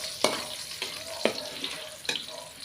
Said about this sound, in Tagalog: kumukulo ng ating ginata